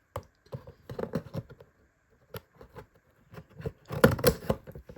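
Scissors cutting open the packaging of a Transformers Age of the Primes Deluxe Class G1 Sky Dive toy: close, sharp snipping and crinkly plastic clicks in short irregular bursts, busiest at the end.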